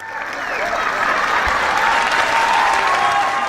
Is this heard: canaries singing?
no